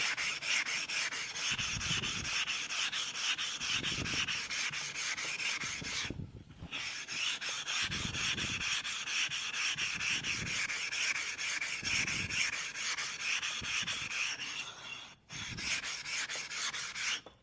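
A blade is sharpened on a sharpening stone in long, steady strokes, each raspy rub repeating at an even pace about every two seconds, with two brief pauses.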